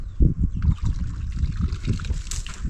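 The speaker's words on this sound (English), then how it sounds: "So we're washing our carpet out here." Water splashes and trickles while a carpet is washed outdoors, with a series of irregular wet sloshing bursts and pouring sounds, close and moderately loud, with no talking.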